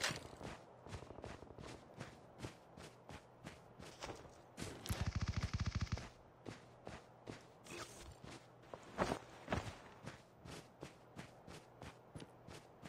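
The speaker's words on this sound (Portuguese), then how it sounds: "Eu ouvi tiros, hein? Eu ouvi tiros." Rapid gunfire rattles in a burst at close range amid a steady series of footsteps and background sounds in a Call of Duty battle royale match.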